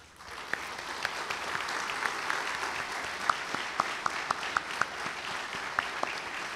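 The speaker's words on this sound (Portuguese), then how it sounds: "a quem eu peço um carinhoso aplauso" A theatre audience claps steadily and fairly loudly, a dense wash of many hands with a few sharper individual claps standing out, going on without pause.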